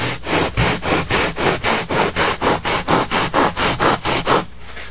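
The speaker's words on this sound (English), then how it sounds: "I like to use this bigger blade Japanese saw because it saves me some time. It really saws fast through this stuff." Large-bladed Japanese pull saw cutting through high density foam for fly heads, a fast, even rhythm of about a dozen raspy strokes close by, with no other sound.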